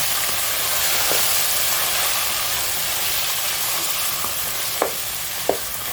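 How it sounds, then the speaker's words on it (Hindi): Mutton sizzles and fries steadily in a hot pan, a constant crackling hiss with a few soft clinks of stirring. "अभी इसमें गोश्त डालेंगे, गोश्त को अच्छे से भूनेंगे।"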